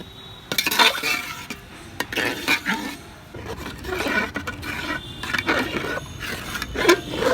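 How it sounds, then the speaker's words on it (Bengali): A spoon stirs lentils and water in a cooking pot, giving repeated scraping and clinking strokes against the metal in irregular bursts, close by with no talking. "এখন আমি নাড়াচাড়া করে দিব।"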